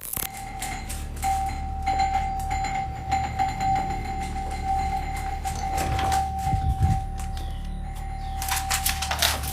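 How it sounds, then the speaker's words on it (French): A house doorbell rings as a steady electronic tone sustained for several seconds, mixed with sharp clicking and rattling noises over a low background rumble. "la sonnette de la maison a commencé à retentir sans aucune explication."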